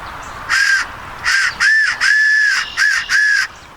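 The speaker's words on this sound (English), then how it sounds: "There you go, choo-choo whistle." A toy train whistle blown in six short, loud bursts with a steady piercing pitch, some blasts longer than others, close and alone.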